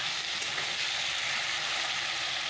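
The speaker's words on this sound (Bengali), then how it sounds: "তো চলো সবজিটাকে ভেজে দেবো।" Vegetables fry in a pan with a steady, close hiss of bright sizzling that holds evenly throughout, with no talking.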